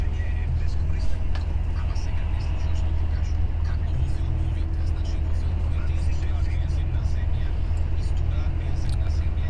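A car drives along a road in North Macedonia and moves to overtake another vehicle, its steady engine and road rumble filling the whole stretch with faint voices murmuring underneath.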